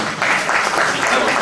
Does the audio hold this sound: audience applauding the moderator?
yes